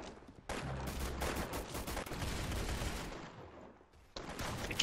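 Rapid bursts of carbine gunfire in a video game crackle in quick succession, a sustained volley of shots with brief pauses, fairly close and loud.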